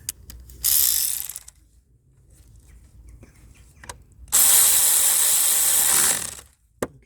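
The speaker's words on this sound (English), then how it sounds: "This is 10mm bolt right here. I'm gonna have to tighten it down." Ratchet tightening a 10mm bolt during EGR pipe service: a short loud burst of close ratcheting clicks, a pause with light handling noise, then a longer sustained run of rapid ratcheting, with no talk.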